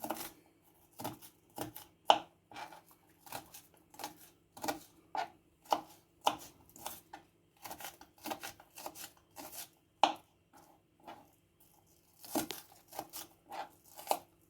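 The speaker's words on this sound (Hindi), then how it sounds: "अब हम अपने प्याज को जो है वो कट करते हैं।" Onions being chopped with a knife on a board, a string of crisp, close blade strikes in uneven bursts separated by short pauses, no talk.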